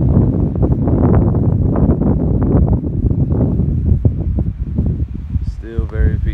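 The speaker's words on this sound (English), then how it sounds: "It is super windy" Strong wind on a dusty day in the Arizona desert buffets the microphone in a steady low roar, with a voice speaking briefly near the end.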